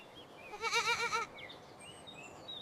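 A goat gives a single loud, wavering bleat lasting about half a second, close and clear, followed by faint high bird chirps in the background.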